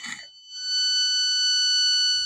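After a short click, a buzzer from an electro dough kit sounds a loud, steady, high-pitched tone that holds continuously.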